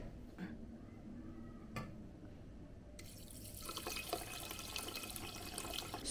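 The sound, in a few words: water poured into Xiaomi pressure cooker with rice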